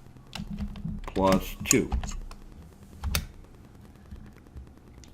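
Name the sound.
typing a formula on a computer keyboard in Excel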